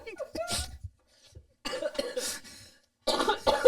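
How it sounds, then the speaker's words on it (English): Several harsh coughs break out in separate bursts, close to the microphone, mixed with a voice. "Don't make me laugh because I've got a cough."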